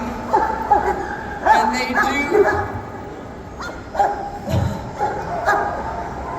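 Excited search-and-rescue dogs at a pet expo bark and yip repeatedly in short, loud bursts close by, mixed with whimpers, while someone speaks over them.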